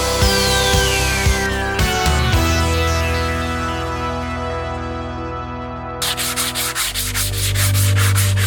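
A cabinet scraper drawn over wood gives a steady rasping scrape with a squealing, ringing edge. It ends in a quick run of rhythmic back-and-forth strokes, close and loud.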